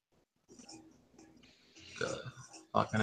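Someone burps a few times during a drunken podcast chat, the burps close and rough, mixed with murmured voices.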